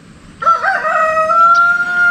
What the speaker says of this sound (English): Yes, that is a bird.